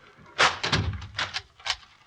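A kitchen door shuts with a solid thump in a 1944 radio suspense drama, followed by a few softer knocks and bumps, close and fairly loud with no talking.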